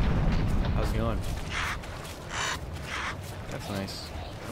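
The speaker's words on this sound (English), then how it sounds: "I don't like chirpings of birds." Crows caw in the video game Dark Souls III, several harsh repeated calls spaced through the stretch over booming game sounds, with someone talking throughout.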